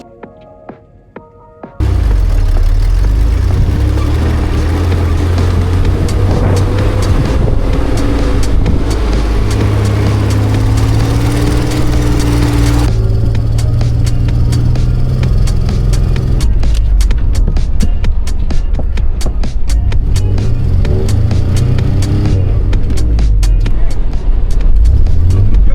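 A 1994 Toyota pickup in four-wheel drive heading onto a beach, its engine starting abruptly and then holding a loud, steady low drone that throbs near the cab, with faint clicks and rattles over it.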